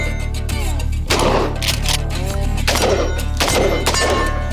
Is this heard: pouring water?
no